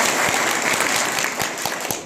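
A village gathering about a planned bio-CNG project in Rajasthan breaks into loud, dense applause, a crowd clapping steadily for a couple of seconds.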